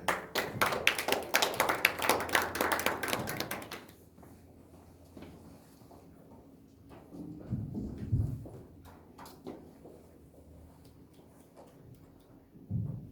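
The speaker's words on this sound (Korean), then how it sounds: "여러분 나선아 선생님을 큰 박수로 맞아주시기 바랍니다." An audience at a public history lecture in Naju, Korea, gives a lecturer a dense round of applause for about four seconds, then it stops abruptly, leaving a quiet room with faint speech and small knocks.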